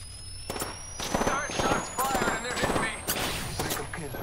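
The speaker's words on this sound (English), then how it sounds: "shots fired and they're hitting me" Gunshots from the battle royale video game Apex Legends, several quick bursts of weapon fire crackling in uneven clusters under steady, excited talk.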